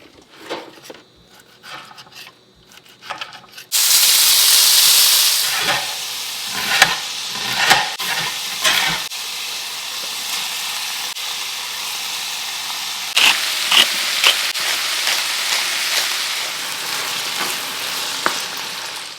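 Bacon sizzling as it cooks, a loud hissing spatter that flares up suddenly after a few quiet seconds of small clinks, then crackles on steadily with occasional pops and utensil knocks.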